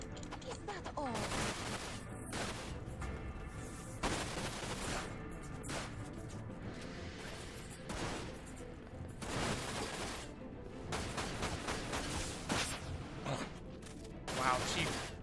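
Rapid gunfire bursts from the video game Dirge of Cerberus: Final Fantasy VII, sharp repeated shots with impacts and game effects filling the whole span, the bursts fairly close and loud with only short gaps between volleys.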